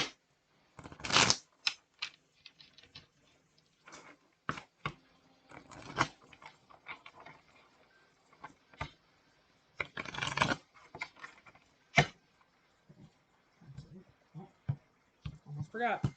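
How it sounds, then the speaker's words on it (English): Tarot confirmation cards are shuffled in quick, soft riffling bursts and clicks close up, with irregular pauses between flurries. "I will shuffle them."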